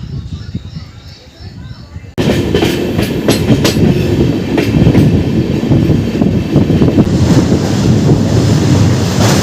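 An Amrit Bharat Express train, the 16598 Alipurduar–SMVT Bengaluru service, passes close by after a quieter start, a sudden loud continuous roar and rattle of wheels and wagons with heavy wind buffeting.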